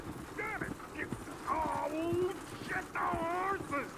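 Horse hooves clip-clop in Red Dead Redemption 2, a soft, uneven patter of hoofbeats running under loud character dialogue.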